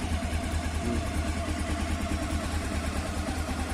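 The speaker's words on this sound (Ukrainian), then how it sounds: "Моторчик дійсно тихенький дає можливості їздити на всіх передачах." A Honda CB 500 S motorcycle engine runs steadily on Ukrainian roads, a low, even, pulsing drone with no talk over it.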